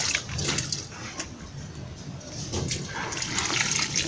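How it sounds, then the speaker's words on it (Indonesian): Water is poured over a potted honey guava plant, with a steady splashing, gushing stream into the soil that runs throughout at close range, with slight surges and no clear speech. "maka kita langsung siramkan ke pot ini, ke tanaman ini."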